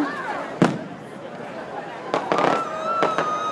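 Fourth of July firework cannons explode overhead, a few sharp loud booms with crackling tails and several spaced bursts, while a crowd cheers and chatters.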